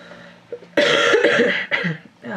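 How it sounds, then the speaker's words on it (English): A person with a cold coughs several times close to the microphone, harsh bursts in quick succession, with a brief pause between the second and third. "Sorry for coughing."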